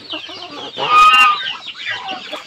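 Bangkok fighting-breed chickens inside a coop, clucking and calling in close, overlapping bursts with one louder cackle near the middle, set against a steady farmyard background.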